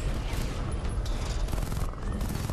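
Gunfire and combat action from the video game Batman Arkham Knight, a dense continuous barrage of shots and mechanical clatter with little break, loud and busy throughout.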